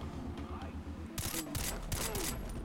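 Gunfire in the video game Far Cry 3 sounds as a quick cluster of sharp shots, fairly quiet and crackling, arriving after a short lull of low game ambience.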